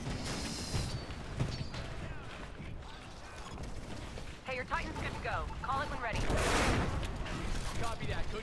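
Rapid gunfire and mechanical clatter in the video game Titanfall, a dense, continuous barrage with louder bursts toward the end, while excited voices talk over it.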